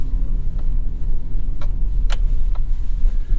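A Chevy Colorado ZR2 on Goodyear Wrangler tires spins its wheels in two-wheel drive with traction control off, a continuous loud low engine rumble and road roar close by, with a few brief clicks and no talking.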